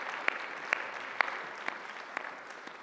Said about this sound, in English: A round of applause for Cindy.